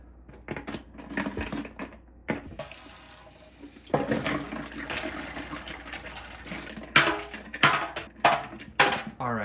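Hot water gushes and splashes over stuck-together ice ball molds, loud and close, with bursts of running water broken by clatters and knocks of the molds.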